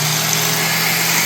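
An angle grinder runs steadily at full speed, a loud, close, even whine with a constant hum underneath, alone with no talk.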